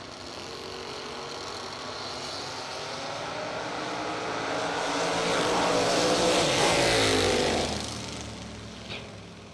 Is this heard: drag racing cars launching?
yes